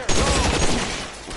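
Gunfire in the video game L.A. Noire: a short, dense burst of shots over a busy game soundscape, loud and close.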